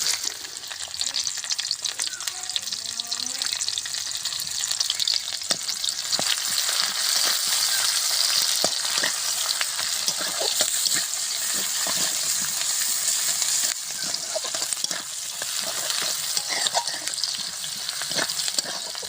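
Whole garam masala, two bay leaves and chopped onion frying in mustard oil for a young jackfruit and egg curry: a dense, continuous sizzle with scattered spatula clicks and stirring scrapes throughout, close and steady, no speech.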